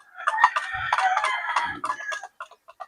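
A Boston Roundhead gamefowl rooster crows up close in a loud, drawn-out call, then trails off into a few short clucks.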